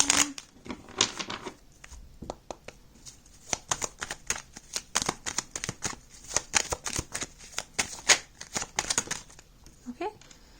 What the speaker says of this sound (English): Let me shuffle the deck one more time.